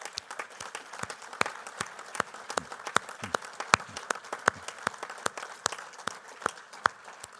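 Scattered applause for the President at the closing of a 2018 international climate change conference, claps sounding sparse and irregular, moderately distant in a large hall with no voices.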